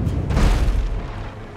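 A ship's cannon fires in the naval video game Abandon Ship, a single heavy boom with a rumbling decay.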